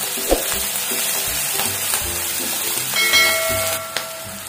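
Steady sizzling and crackling of salted onions sautéing in a hot pan for donne biryani, up close, with occasional soft clinks of a utensil.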